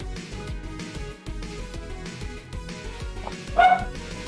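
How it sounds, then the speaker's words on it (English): Dogs barking repeatedly in the background, a steady run of rhythmic bow-wow barks and yips, somewhat distant, with a louder burst near the end. "the dogs are going absolutely nuts in the background"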